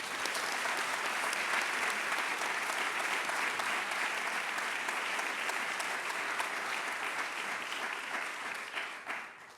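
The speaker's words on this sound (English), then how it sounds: "please give a round of applause for Drew Faust" Steady applause from a large crowd, sustained and even for several seconds before tapering slightly at the end.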